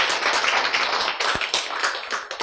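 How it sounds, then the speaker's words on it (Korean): An audience in a health lecture bursts into steady applause, a dense, continuous patter of many hands clapping at close range throughout. "박수 좀 치라고."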